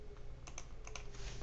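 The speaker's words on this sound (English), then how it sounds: "So find type data, press enter." Short bursts of keystrokes on a computer keyboard as a command is typed into MATLAB, a few quick clustered clicks close by over a steady low hum, with no talking.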